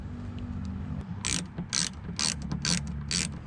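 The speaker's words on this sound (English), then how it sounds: "Now it's time to reinstall your bolts." Ratchet socket wrench tightening a bolt on a 2009–2018 Ram 1500 during front turn signal bulb replacement; five quick bursts of sharp ratcheting clicks close to the microphone over a low background hum.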